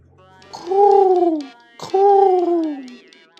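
A pigeon in the game Hiveswap gives two close, loud, drawn-out coos with a falling pitch and a short pause between them.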